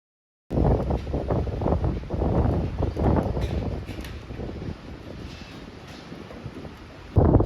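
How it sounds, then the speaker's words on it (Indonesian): Strong wind gusting outdoors, a loud, broad rushing roar that swells and eases for several seconds, buffeting the microphone, with a sharp surge at the very end. "Sudahkah kalian mendengar hembusan angin yang begitu kencang?"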